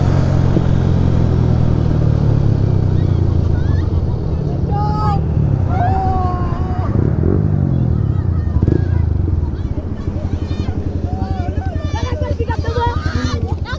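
A motorcycle engine drones steadily and revs in surges on a Republic Day group ride as the rider pulls wheelies, with someone talking over it throughout and a few higher tones breaking through.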